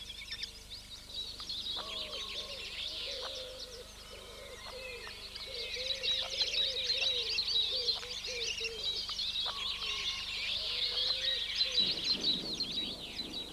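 Kestrel chicks call on the nest in a run of repeated thin chittering cries over a faint steady hum, with softer bird calls mixed in and no talking.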